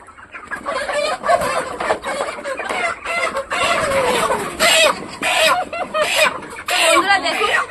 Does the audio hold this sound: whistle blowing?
no